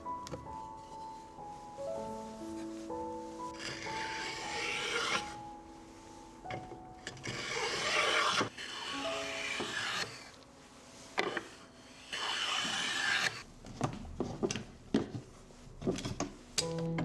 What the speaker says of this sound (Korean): 가느다란 부재를 고정시킬 굵은 뼈대를 만들고 끼울 홈도 파고 있습니다.